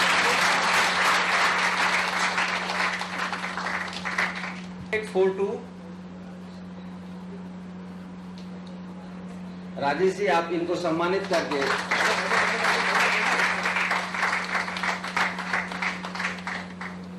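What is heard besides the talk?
applause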